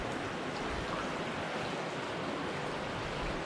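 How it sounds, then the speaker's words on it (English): Steady broadband rush of water at the Ocqueoc River weir, a continuous even wash with no voices, fairly close and moderately loud throughout. "This little sound of water."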